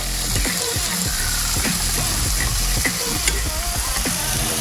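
A spatula scrapes and stirs repeatedly in a ceramic-coated pan over a loud, continuous sizzle of frying food, with no talking.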